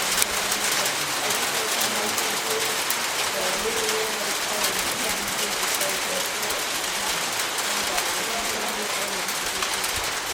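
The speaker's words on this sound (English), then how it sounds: "I'm literally standing on the equator and it's hailing." Hail falls steadily at over 4,500 meters on Mount Kenya at the equator, a dense, even hiss of ice pellets hitting close by for the whole stretch, with faint voices murmuring underneath.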